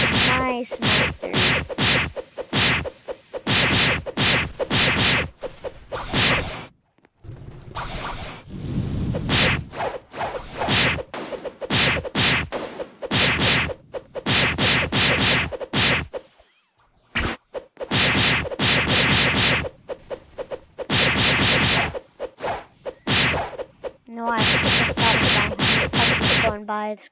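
Rapid, punchy thwacks from close-up punch hits in the video game Blox Piece, landing in quick bursts with brief whooshes between, with a person talking now and then.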